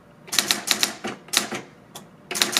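A found street typewriter clacks out bursts of crisp, loud keystrokes in quick clusters with short pauses between them, no voices present.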